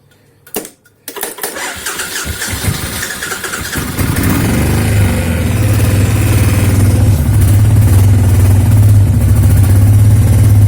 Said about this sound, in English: It'll idle down, but it runs rough.